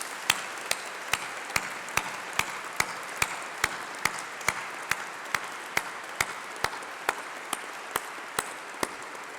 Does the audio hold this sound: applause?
yes